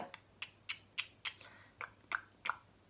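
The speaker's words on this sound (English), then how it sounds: "One of the things that we noticed that he was starting to do was clicking his tongue" A baby makes about eight sharp, close tongue clicks, spaced roughly evenly with brief pauses between each soft pop, heard alone in a quiet room.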